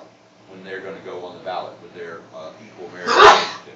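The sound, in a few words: sneeze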